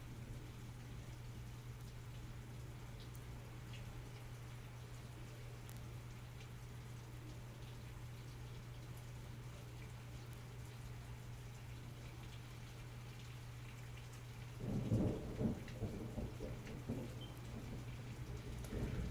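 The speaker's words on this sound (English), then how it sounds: "A thunderstorm this big has to pass relatively quickly" Heavy thunderstorm rain from an animated episode pours in a steady, soft hiss with a low background hum, then a louder, rumbling burst rises near the end.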